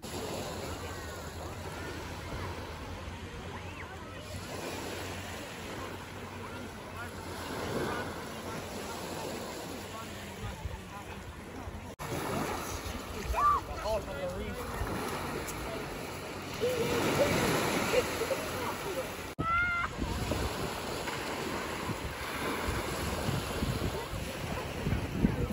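Sea waves roll in at Helen's Bay beach near Belfast, Northern Ireland, a steady wash of surf mixed with buffeting wind noise on the microphone, with a person talking over it.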